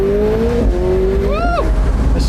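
Lamborghini Revuelto or McLaren 750S supercar in sport mode, engine revving and pitch rising then dropping sharply through an aggressive gear shift, loud and close with a brief high whine after.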